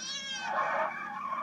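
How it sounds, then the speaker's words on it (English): A single drawn-out cat meow, wavering and slightly rising then falling, close and moderately loud, with no voices. "Dumb cat!"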